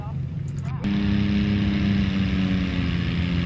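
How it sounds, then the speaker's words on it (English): A tractor engine at the 2024 Ilderton, Ontario tractor pull, one that sounds worn out and underpowered, rises abruptly under a quieter start into a loud, steady, throbbing drone that holds close and constant to the end. "this one sounds funny, probably not very powerful, and you know, like the engine looks like it's shot"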